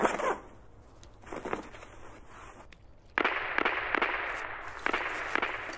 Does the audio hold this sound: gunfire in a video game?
yes